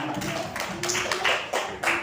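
Children clapping their hands together in a classroom lesson, a brief burst of scattered claps repeating at an uneven rhythm, moderately close and without clear talking.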